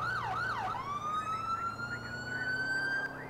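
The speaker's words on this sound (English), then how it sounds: "we're gonna go ahead and kill our lights and sirens" A police car siren in the LCPDFR video game wails loudly and close, rapid yelping sweeps giving way to a long rising tone, with engine noise underneath.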